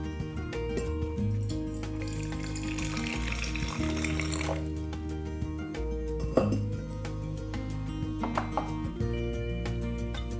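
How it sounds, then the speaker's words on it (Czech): Hot water streams steadily into a teapot for several seconds to warm it, splashing and gurgling, followed by clinks and quieter trickling, with a low hum underneath. "nejprve prohřejeme konvici horkou vodou"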